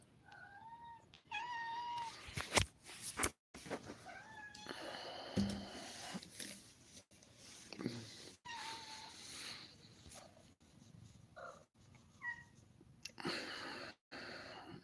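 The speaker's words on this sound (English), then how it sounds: "This cat always makes this noise." A cat meows repeatedly indoors, a series of drawn-out, wavering calls with short pauses between them, fairly close and distinct against quiet background with a few faint clicks.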